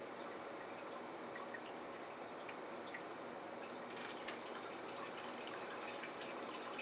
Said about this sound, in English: this is the pump turned up to max, so you actually got to see some rainfall with it